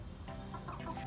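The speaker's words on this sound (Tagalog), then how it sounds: "ito na yung ating mga sisiyo na 3 weeks old" Young chicks and chickens in a rooftop poultry pen cluck and peep briefly over a dense, noisy background of farm ambience, with no talking.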